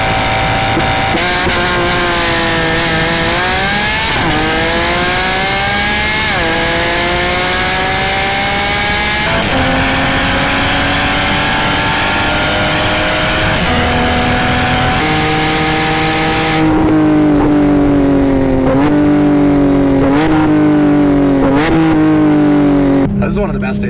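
A Lamborghini Aventador accelerates hard through its gears, loud repeated climbs in engine pitch, each cut off by a shift and starting again, with voices occasionally heard over the roar.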